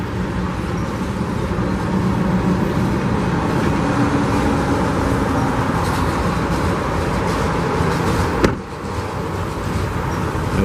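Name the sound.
freight train cars passing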